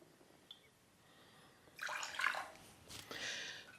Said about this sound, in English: My next ingredient in there is coffee. Not just coffee, it's espresso. And we're going to put in there 1 full ounce.